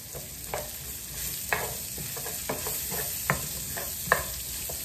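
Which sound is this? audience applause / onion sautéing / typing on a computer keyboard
onion sautéing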